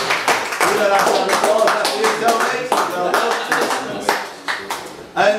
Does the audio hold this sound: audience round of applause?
yes